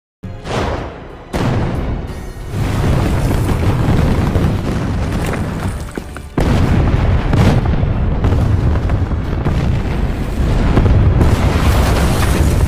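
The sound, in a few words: artillery fire and explosions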